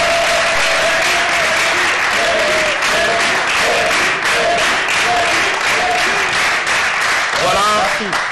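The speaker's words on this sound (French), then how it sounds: "on applaudit très fort pour le prince" A comedy show audience claps loudly and continuously for the prince, a thick wall of applause with faint cheering voices surfacing now and then.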